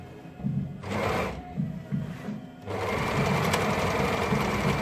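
An overlock sewing machine stitches a long dress seam in several bursts: two short runs with pauses between, then one sustained stretch of fast, even whirring, close and clear.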